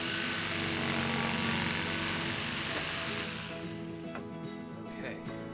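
A power tool cuts through a wooden piece during a catamaran sailboat refit, a steady loud whirring grind that runs continuously before easing and thinning toward the end, with no talking.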